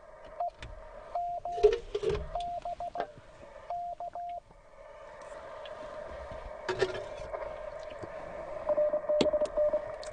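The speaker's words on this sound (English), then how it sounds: "My phone should go diddle-diddle-doo." A phone chirps out the Ham Alert app notification, a quick run of short repeated electronic beeps and trills, clear and close, followed by a steadier tone over low radio hiss.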